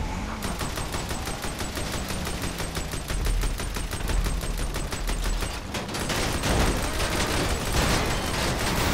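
Sustained automatic gunfire from a GTA 5 Online vehicle battle rattles in a steady, fast rhythm for the whole stretch, loud and continuous with a mechanical clatter underneath.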